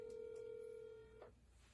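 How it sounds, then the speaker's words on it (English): A telephone rings with a steady electronic tone that stops abruptly after about a second, followed by quiet line noise. "it's ringing"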